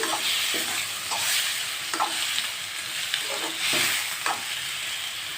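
Five chopped tomatoes cooking down in a pan of chicken curry, with a soft steady sizzle and repeated spatula scrapes and stirring knocks recurring every second or so.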